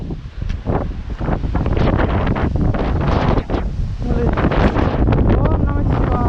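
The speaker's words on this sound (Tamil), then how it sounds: "ஆனால் அந்த காற்று சுழட்டி ஆளே தள்ளுற அளவுக்கு அடிக்குது." Strong gusting wind buffets the microphone on a hilltop temple site, loud and rumbling throughout, with people talking under the roar.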